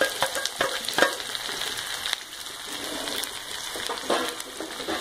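Steady sizzling and crackling of onion and garlic frying in a hot pan, with occasional scraping as it is stirred, close up and without talking.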